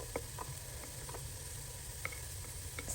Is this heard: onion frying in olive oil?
yes